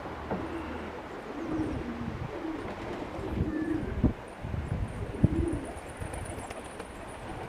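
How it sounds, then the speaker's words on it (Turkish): Pigeons coo softly in a loft, low repeated calls over steady background noise, with a few brief knocks and rustles. "Güvercinlerimizi."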